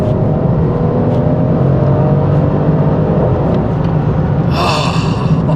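A car accelerating hard under full throttle, a loud steady engine roar with road rumble heard from inside, continuous throughout, with a brief higher whoosh near the end.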